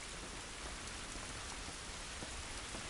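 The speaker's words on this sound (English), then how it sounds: "This rain ain't gonna do us any good." Steady rainfall in The Last of Us Remastered, a dense even patter of drops on surfaces that holds constant throughout with no voices.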